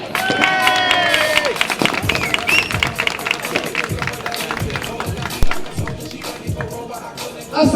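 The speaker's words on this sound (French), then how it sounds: "Nous allons faire un tonnerre d'applaudissements. Messieurs, dames, pour Manon Marcari" Crowd applause for padel player Manon Marcarie at a padel match: a steady burst of clapping and cheering from the audience, with an announcer's voice and a whistle heard over it, fading and rising again near the end.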